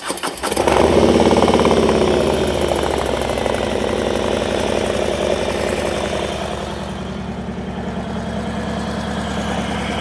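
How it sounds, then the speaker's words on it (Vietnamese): A 2021 Harley-Davidson Low Rider S 114 fitted with an aftermarket exhaust cranks and fires up, then settles into a loud, deep, rumbling idle that fades slightly toward the end. "thì đây là cái âm thanh mới đề của xe"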